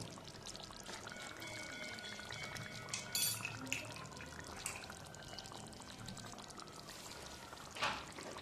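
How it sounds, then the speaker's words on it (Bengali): A teaspoon of kewra water pours into a pan of Bengali-style chicken rezala, giving faint, brief liquid trickles over a quiet kitchen background, with a slightly louder splash near the end. "আমি দিয়ে দেবো এখানে চা চামচের এক চা চামচ কেওড়া জল"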